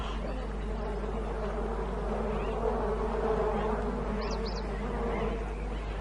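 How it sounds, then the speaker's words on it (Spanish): A dense, steady drone of many bees buzzing around a waterhole hums continuously, close and moderately loud, with no voices. "pero está lleno de abejas."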